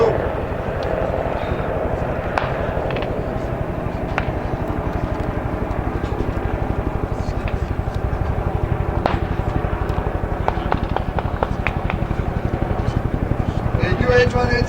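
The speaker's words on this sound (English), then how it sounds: "A UH-1H helicopter arrives at the scene." A UH-1H helicopter arrives at a military exercise scene, a loud, steady rotor and engine drone with rhythmic chopping that builds slightly toward the end, with voices talking underneath.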